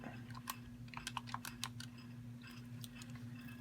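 Quiet, close tapping of calculator buttons entering numbers, irregular light clicks over a steady low hum.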